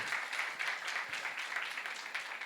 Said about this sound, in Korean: 우리 큰 박수로 한번 좀 격려해 주시겠어요?